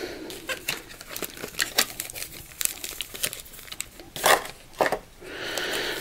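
A Yu-Gi-Oh! booster pack's foil wrapper crinkles and tears open close by, in irregular bursts of sharp crackling that swell louder in the final seconds.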